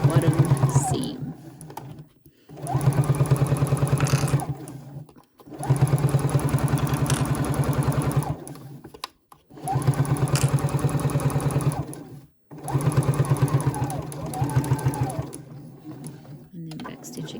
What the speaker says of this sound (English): You just want to start at the end, back stitch a little, and then just sew along that entire bottom seam